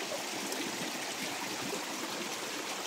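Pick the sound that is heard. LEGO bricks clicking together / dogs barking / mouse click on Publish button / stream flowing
stream flowing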